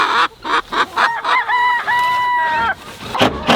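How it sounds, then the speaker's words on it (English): A broody hen in a backyard pen clucks and crows loudly up close, a run of sharp calls followed by a drawn-out, wavering cry, with no talk over it. "Broody hen, but we don't need a broody hen right now."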